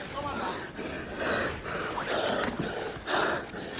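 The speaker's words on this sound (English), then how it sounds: "You can hear them breathing laboriously from our vantage point here" Heavy, labored breathing of two MMA fighters grappling in close guard, with gasps and snorts in uneven bursts, close by, under muffled background noise.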